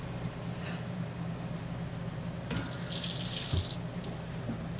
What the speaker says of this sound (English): Alexa, turn on the water.